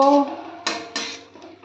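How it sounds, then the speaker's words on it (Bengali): Water from a rinsed spice bowl pours into a pan of rui fish curry with potatoes, followed by a few short clinks of metal against the pan during stirring, close and moderately loud with no talk. "এবার আমি এই মশলার বাটিটা ধুয়ে অল্প একটু জল দিয়ে দেব।"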